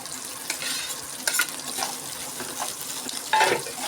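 Onions fry and sizzle in a pan for sambar, a steady crackling hiss with soft stirring scrapes and occasional brighter pops, close and alone without talk.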